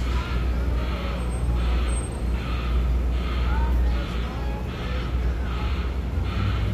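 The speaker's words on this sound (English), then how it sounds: "it sounds like a bird is dying, but it's literally just an Amazon Prime truck backing up" An Amazon Prime delivery truck backs up in Miami, Florida, giving a steady run of evenly spaced, warbling beeps over a low engine rumble, while people talk faintly.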